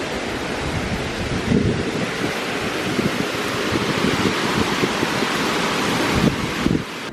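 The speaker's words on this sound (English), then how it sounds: "The wind is insane." Strong wind roars steadily and broadband around an outdoor tree house build site at night, gusting louder at times with a buffeting, rushing quality, no talking.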